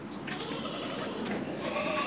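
A goat raised for Eid sacrifice bleating amid a noisy, continuous background, with a few wavering calls rising faintly above the steady din.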